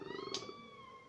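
A cat gives a drawn-out, wavering meow with a brief sharp cry partway through, close and fairly quiet, with no talk.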